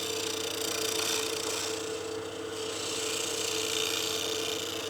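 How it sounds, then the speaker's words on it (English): A small lathe gouge peel-cuts side grain on a spinning wooden blank, a continuous close scraping hiss over the steady hum of the lathe, with no talking. "the wing on this smaller gouge is basically peel cutting the surface because we're cutting into side grain"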